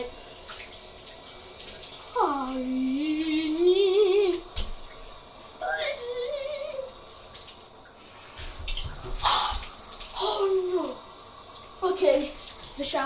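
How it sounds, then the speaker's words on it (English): A shower runs with a steady hiss of spraying water, heard beneath a person's voice that rises and falls through much of the stretch, with a few splashy bursts. "the shower just turned on a little bit."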